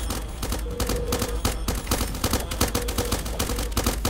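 Gun turrets in the video game Starbound fire continuously at a boss, producing dense, rapid bursts of gunfire that stay loud and unbroken throughout.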